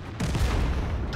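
Single burst of tank gunfire in World of Tanks from a Panzer IV S battle, a loud close boom with a dense rumbling tail lasting about a second.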